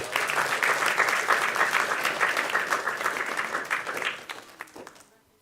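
Sustained audience applause at a school graduation ceremony, a dense wash of many hands clapping from a crowd in a hall, steady and loud for several seconds before tapering off and fading out at the end.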